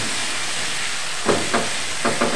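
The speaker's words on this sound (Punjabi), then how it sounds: "ਹੁਣ ਇਹਨੂੰ ਥੋੜ੍ਹਾ ਜਿਹਾ ਭੁੰਨਾਂਗੇ ਆਪਾਂ।" Steady hiss of potato and methi masala with homemade ground spices and salt roasting in a hot pan, loud and continuous, with a few soft scraping knocks of stirring near the end.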